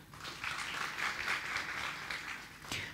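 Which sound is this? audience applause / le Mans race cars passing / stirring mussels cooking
audience applause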